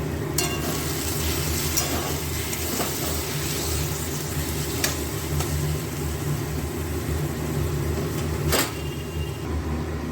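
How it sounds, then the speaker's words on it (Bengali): Spice masala for a prawn curry sautés in a pan with a little water, a low continuous bubbling sizzle with occasional sharp clicks of a utensil against the pan, nearby and without talk. "কষানোটা খুব ভালো হয়, লেগে যায় না"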